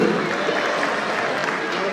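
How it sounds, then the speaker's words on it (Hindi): An audience at a Meena community gathering in Chandigarh claps in a dense, continuous burst of applause while a voice carries over the crowd. "जोरदार तालियां रामलखन मीना जी के लिए"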